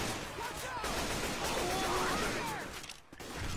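Rapid bursts of gunfire and overlapping shots from a shooter video game on a charity livestream, dense and continuous, then briefly dropping away near the end.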